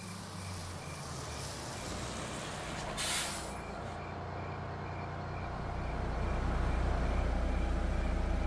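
A police bus pulls up with a low engine rumble, gives one sharp hiss of its air brakes, then the engine idles and grows slightly louder.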